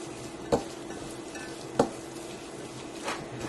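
A spoon stirs pink Himalayan salt into chicken vegetable lo mein in a pan, with three sharp scraping knocks spaced about a second apart over a soft, quiet sizzle.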